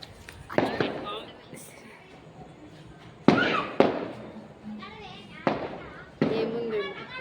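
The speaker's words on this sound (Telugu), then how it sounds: "అంత బాంబులు వేలుస్తున్నాయి." Firecrackers bursting outside, several sharp loud bangs spaced a second or two apart, each trailing off, with voices talking between the blasts.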